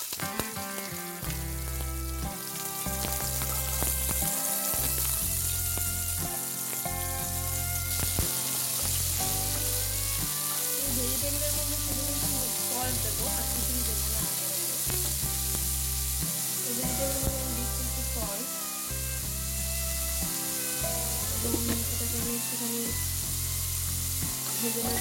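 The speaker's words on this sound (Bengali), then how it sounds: "অয়েল গরম হয়ে গেছে, ধোয়া উঠছে, আমি ভেজিটেবলগুলো দিয়ে দিচ্ছি।" Vegetables dropped into smoking-hot cooking oil for chicken and prawn fried rice, a loud continuous sizzle and spatter that holds steady throughout, close by, with no voices.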